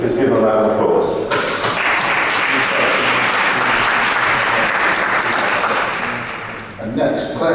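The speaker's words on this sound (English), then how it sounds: "Please give him a round of applause." A conference audience at a marketing festival panel gives sustained, dense applause for a panelist being introduced, the clapping steady and loud before fading out, with a voice resuming at the end.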